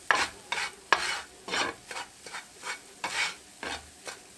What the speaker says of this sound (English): I'm just going to stir this around on a medium heat until it gets a light brown color